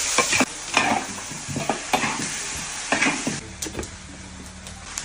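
Large pork bones fry in hot oil with scallion, ginger, garlic, dried chili, oyster sauce and soy sauce, a close crackling sizzle punctuated by several sharp scrapes and knocks of stirring, fading slightly toward the end, no speech.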